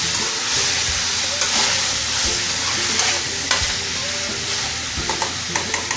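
Chicken fries in a pan with a constant close sizzle, broken by stirring scrapes and clicks of a utensil against the pan that grow more frequent near the end.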